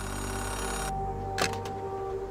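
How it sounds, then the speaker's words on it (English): In the video game Oxenfree II, a payphone rings with a short electronic trill over a steady background hum, with a brief click-like burst partway through. "Payphone ringing in the wild?"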